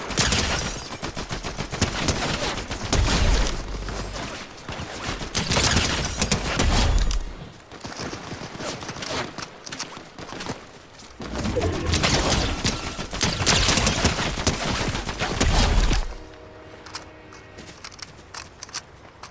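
Gunfire from a Snake Eyes video game comes in loud bursts of rapid shots, with quieter gaps between the volleys and a near-silent stretch at the end.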